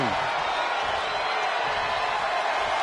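A capacity arena crowd in the WWE 2K25 wrestling video game, heard as a steady, dense wash of cheering and roaring that holds evenly throughout without letting up.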